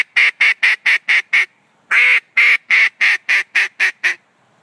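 A duck call blown in a fast comeback sequence: a run of six sharp quacking notes, a brief pause, then another run of about eight loud, evenly spaced quacks, close and clear with no talk.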